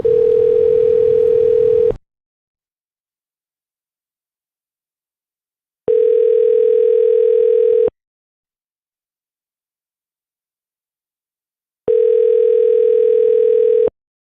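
A telephone rings back on an outgoing call to a likely Google Voice number: three identical two-second steady tone bursts spaced six seconds apart, loud and clear with silence between and no talk.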